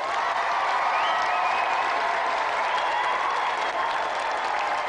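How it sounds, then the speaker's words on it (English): Steady, sustained applause from a TV studio audience on Games Master fills the whole stretch, loud and even, with a few faint whoops mixed in. "Another round of applause for tonight's competitor, Tim Khan."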